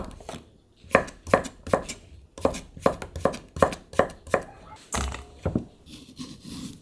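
A knife cuts a halved cucumber into thick slices on a wooden board, making a quick run of crisp, close chopping knocks in an even rhythm with short pauses, and nobody speaks.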